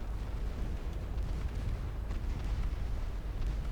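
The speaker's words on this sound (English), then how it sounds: "my torpedoes are striking home" Torpedo hits on a massive super battleship in the naval warfare game Ultimate Admiral Dreadnoughts, heard as a loud, continuous roll of rumbling explosions and deep booms with no talking.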